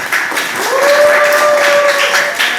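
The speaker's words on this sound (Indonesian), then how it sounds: "Tepuk tangannya lagi." Applause from an audience at an open Quran-exegesis examination fills the room, steady and fairly loud. A faint tonal whine runs underneath.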